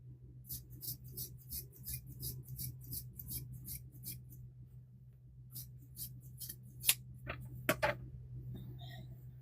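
Fabric scissors used on a patchwork gnome quilt make a rapid run of crisp snipping cuts, then a few sparser snips and clicks follow, close up over a low steady background hum.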